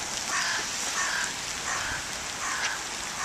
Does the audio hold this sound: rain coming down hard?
yes